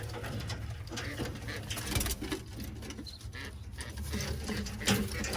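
Roller pigeons coo softly in a loft, low murmuring calls repeating through the clip with some faint rustling, fairly close and at a calm, even level.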